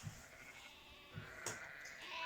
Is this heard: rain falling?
no